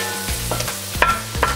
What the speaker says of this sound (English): you want to just get all these little spots like that and scrape it off